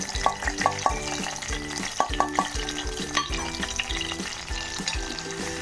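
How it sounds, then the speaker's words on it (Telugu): Onion and chili frying in hot oil for a Telugu pappu chicken curry, a steady sizzle with the clatter and scrape of a spoon stirring in the pan, as rhythmic tonal bumps sound in the background. "కొంచెం ఆయిల్ హీట్ అవ్వగానే ఆనియన్, చిల్లీ వేసేసుకుందాం."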